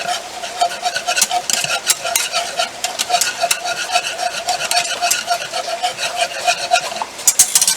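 A salt, pepper and garlic rub is stirred and mixed for a roast beef, giving a steady close-up gritty scraping and rasping with rhythmic strokes, no talking.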